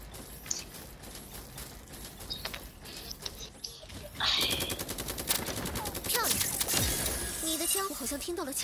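Gunfire in a mobile video game: quiet clicks and mechanical ticks early on, then from about midway sustained rapid automatic shots crackling loudly with overlapping game effects.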